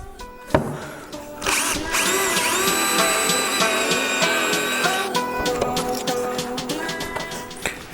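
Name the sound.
power drill boring a 3/8 inch hole in cornhole board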